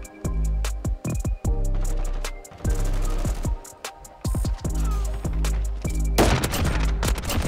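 Rapid bursts from an MP5 submachine gun in Call of Duty Modern Warfare crack out loud and close, several automatic volleys separated by brief gaps, with a dense flurry of shots near the end.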